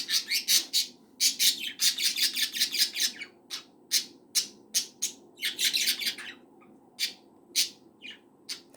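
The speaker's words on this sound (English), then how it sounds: "That bird is grunting." A pet bird squawks over and over in quick, harsh bursts, fairly close, with short pauses between clusters of calls.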